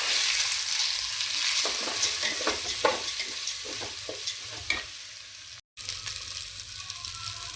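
Two glasses of rice frying in a spiced oil tempering with cinnamon, stirred with a spoon in scraping strokes over a constant loud sizzle, close, with a momentary cutout near the end and no talking.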